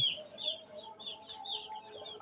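Chickens in a large farm shed cluck and chirp in a run of short, high calls repeating every half second or so, fairly close and with no talking.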